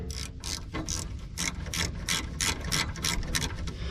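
A ratchet clicks in quick, rhythmic bursts, about a dozen sharp strokes close up, tightening a fuel line fitting on an abandoned 1972 Plymouth Fury, with no voices.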